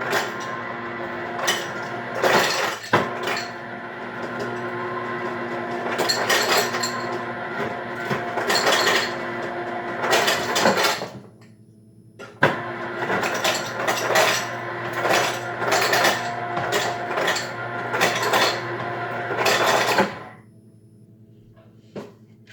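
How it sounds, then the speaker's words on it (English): Ice clattering into a large pot as cups of it are added to a chicken brine: repeated loud bursts of clinking and rattling in clusters, separated by short pauses, with no talking. "I am adding 2 cups of ice."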